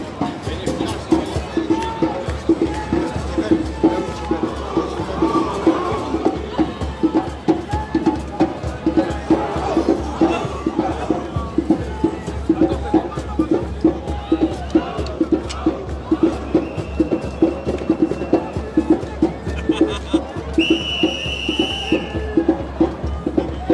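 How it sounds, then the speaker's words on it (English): A crowd at a street protest in Toulouse with heavy police presence, a steady dense roar of many voices and movement, fairly loud throughout, with a short high whistle-like tone near the end. "I think I can film the crowd now."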